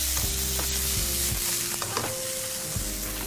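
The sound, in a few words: tempering sizzling in hot oil with tomato for egg recipe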